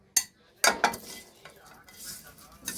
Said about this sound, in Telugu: ఇప్పుడు ఈ తాలింపు మొత్తం దీంట్లో వేసేస్తున్నా.